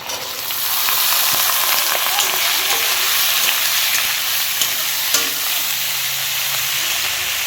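Onions frying in a pan give a dense, loud, continuous sizzle that swells in after a brief quiet start and holds steady, with a few faint clicks.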